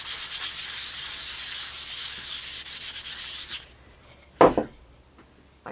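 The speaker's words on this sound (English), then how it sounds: "All right, I've got my medium basically dry. I sand that." Dried glazing medium being sanded by hand for an image transfer, giving a loud, steady rhythmic rasp of strokes for several seconds, then stopping, followed by a brief wipe or knock near the end.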